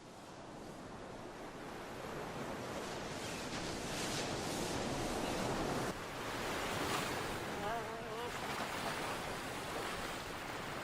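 A steady roar of sea surf breaks along a coastline, continuous and broadband with wind noise swelling and easing, no voices.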